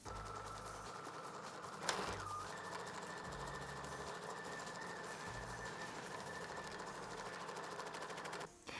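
Sewing machine running steadily as it stitches tape along the edge of a roman blind, a continuous close mechanical whir with a brief pause near the start and a short stop near the end.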